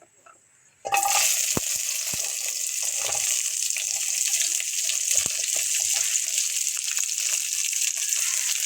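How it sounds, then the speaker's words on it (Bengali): Drumsticks dropped into hot oil with panch phoron burst into a sudden loud sizzle after a quiet second, then keep frying steadily and close, with a few clinks of the utensil early on. "আমার তেল গরম হয়ে গেছে পাঁচ ফোড়ন জ্বলে গেছে আমি এখন সাজনা দিয়ে দিলাম"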